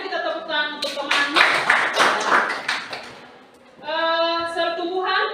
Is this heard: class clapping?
yes